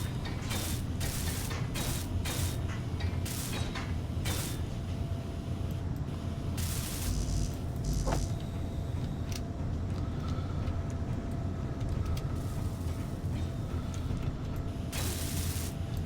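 Hand welding tool in the Space Engineers game, a continuous dense mechanical clatter and whir with repeated ratcheting clicks, steady and fairly loud throughout with no talk.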